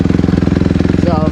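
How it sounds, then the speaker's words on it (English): A cold 2023 Honda CRF150RB dirt bike engine idles without the choke, a loud, close, slightly sputtery stream of rapid, even thumps, with a voice briefly heard near the end. "this is what it sounds like just idling without the choke. So it's a little bit sputtery because it's cold out"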